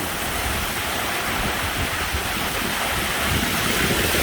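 Steady midday rain falls during the rice-planting season in rural Thailand, a dense, even hiss of rainfall that stays constant and close throughout, with no voices.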